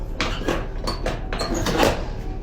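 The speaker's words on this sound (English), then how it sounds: "Push it open. And you see, with the door open, it's still not heating." Door of a walk-in store oven being pushed open, giving several short knocks and scrapes with hard metallic clatter, close and fairly loud, with a faint brief tonal squeal among the bangs.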